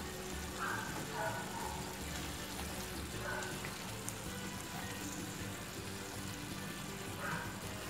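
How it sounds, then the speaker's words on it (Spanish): Apple pieces with ground cinnamon cooking in a pan give a soft, steady sizzle and faint crackle, low and continuous with no voices. "Y cocinamos a que ya esté suave la manzana."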